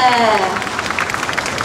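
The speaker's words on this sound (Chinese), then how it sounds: "请给他一个最热烈的掌声" A crowd at an evening ice-sculpture show at Breeze Nan Shan breaks into brief, dense applause that follows a voice at the start.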